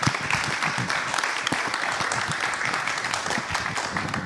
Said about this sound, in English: Can we give one more round of applause for David and Jeffrey?